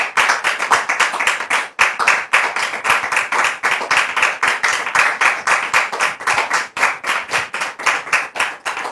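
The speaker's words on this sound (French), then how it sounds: "Sous vos applaudissements, s'il vous plaît." An audience claps steadily to welcome Brother Emmanuel on stage, dense, close and continuous rhythmic applause with no talking over it.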